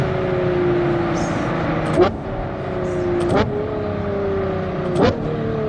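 A Ferrari Purosangue V12 fitted with a Novitec exhaust, a steady engine drone with three sharp blips of revving that rise and fall, each punctuated by a crackle, heard nearby with brief talk in the background.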